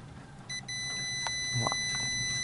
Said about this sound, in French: Pour tester un multimètre par rapport déjà si la sonnerie marche